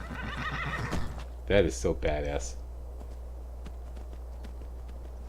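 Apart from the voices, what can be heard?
armored horse neighing and hooves in Skyrim video game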